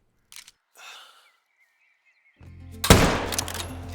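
A single loud rifle shot rings out at a saltwater crocodile in the hunting game theHunter: Call of the Wild, sharp and close, then decays into a brief echoing tail after quiet rustles and a faint electronic tone.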